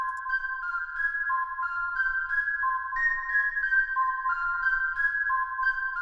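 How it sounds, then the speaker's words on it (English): A blend of two Irish whistles and four ocarinas holds soft, pure, breathy sustained tones in a slow stepping line, quiet and eerie, with no other instruments or voices. "2 Irish whistles and 4 ocarinas."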